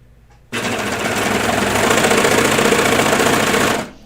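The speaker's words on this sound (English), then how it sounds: "I'm just gonna put my serger right where I want it instead of going on and off." A serger stitches fabric for kid's pajama bottoms in one loud, fast, rapidly pulsing run of about three seconds, starting abruptly and winding down at the end.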